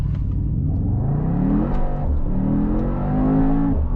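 Mercedes-AMG GT 63 S E Performance hybrid launching from a standstill without launch control, a loud close engine roar rising in pitch through the gears with brief dips at each upshift.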